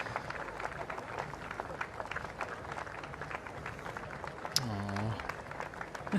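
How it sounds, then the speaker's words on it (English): Spectators along the route of Melbourne's Anzac Day march clap as it passes, a steady crowd patter heard at moderate distance beneath commentators' voices and music. "all the people clapping"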